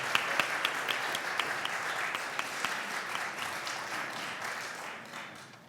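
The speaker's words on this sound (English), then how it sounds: "Let's give one last round of applause for all of our student presenters." A crowd at a youth entrepreneurship challenge applauds student presenters with a steady wash of clapping that carries evenly and tapers softly near the close.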